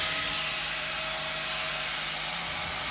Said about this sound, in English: I'm just roughly sanding this down with an angle grinder with a wee sanding disc on it.